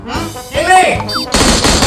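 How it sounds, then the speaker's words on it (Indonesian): Automatic gunfire in a PUBG battle, bursts of rapid shots rising over a busy mix of game effects and a voice calling out, loud and close through the short span. "Tembakan!"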